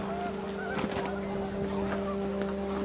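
Panicked geese in the video game What Remains of Edith Finch honk in a loud, close cluster of repeated calls over a short burst, with no talking.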